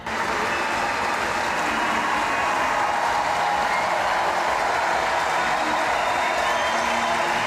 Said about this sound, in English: a wonderful round of applause for the two French players who won the bronze medal